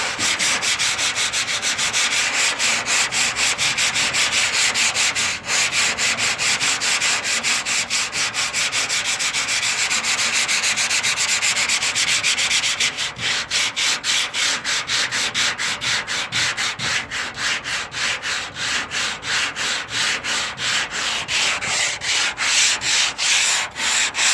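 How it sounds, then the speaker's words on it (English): Steady, rhythmic hand sanding of car body panels rasps back and forth for a long stretch, a close, continuous scratchy rubbing with no voices. "It's a lot of sanding, and it's going to take a lot of time to do this."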